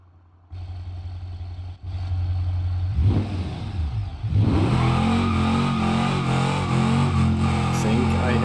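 Engine of a blue Bug in the BeamNG.drive driving game, idling low, then revving hard and climbing in pitch as the car drifts, the engine noise growing louder and steady over the final seconds.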